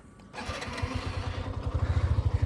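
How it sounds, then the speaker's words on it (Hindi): A Hero Xtreme 125R motorcycle engine starts up and settles into a steady, throbbing idle with rapid low pulses, close by and fairly loud. "बाइक स्टार्ट कर दी मैंने, ठीक है, बाइक स्टार्ट हो गई है।"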